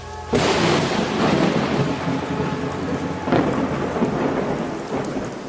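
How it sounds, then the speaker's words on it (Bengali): A loud thunderclap with lightning strike bursts in suddenly in a cartoon, followed by a heavy, sustained crash and rumbling storm noise like pouring rain, with a second crackle partway through. "আচমকা চারিদিক আলোকিত হয়ে বিকট শব্দ করে মোড়লের উপর বাজ পড়ে"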